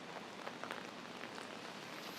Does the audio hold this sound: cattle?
no